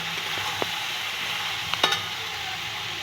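Potatoes and chicken pieces rubbed with salt and turmeric sizzle in a pan. A steady frying hiss runs throughout, and a few sharp scrapes and clicks of stirring come through close by.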